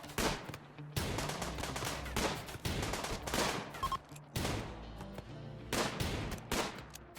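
Rapid bursts of gunfire in the video game Rimworld, loud overlapping shots and volleys firing in quick succession throughout, with no talking.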